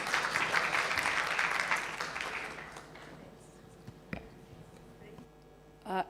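Audience at a women's economic forum in Kenya gives a round of applause, loud clapping that fades away over a few seconds, leaving a quiet room with a couple of faint knocks and a short rustle at the end.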